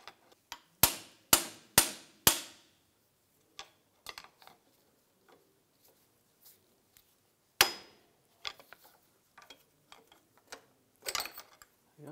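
Metal tapping on the front lower ball joint of a 2004-2009 Toyota Prius: four sharp, evenly spaced knocks, then scattered lighter clicks and a few more taps, close up in a quiet workshop.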